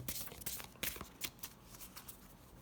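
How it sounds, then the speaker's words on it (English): Oracle cards being shuffled in quick riffling bursts, a run of soft papery flutters and snaps, close and fairly quiet, with no talking. "I'm gonna shuffle them on cam"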